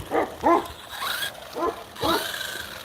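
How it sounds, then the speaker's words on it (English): Several giant, very old dogs make short barking and whimpering sounds at close range, in uneven bursts, with a person's voice occasionally heard. "They're these giant dogs, too."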